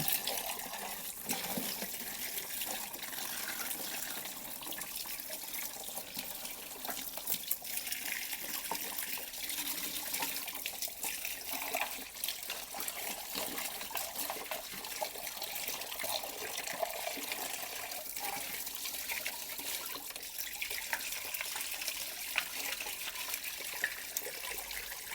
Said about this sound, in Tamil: இப்போ வந்து டைரெக்டாக நம்ம வாஷ் பண்ண போகிறோம்